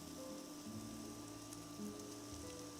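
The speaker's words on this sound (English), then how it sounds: "Grab your rice, and we're going to just slowly add that rice to the pan." Rice added to a hot pan with garlic gives a soft, even sizzle with a light patter, faint and steady throughout.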